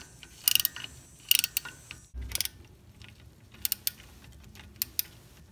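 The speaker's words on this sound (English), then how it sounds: "Grab your 14 millimeter socket and remove the top and bottom caliper slide bolts." A socket wrench on the 14 mm caliper slide bolts of a Toyota Camry or Corolla gives bursts of sharp ratchet clicks, several quick clusters with brief pauses and a clunk between, close and moderately loud with no talking.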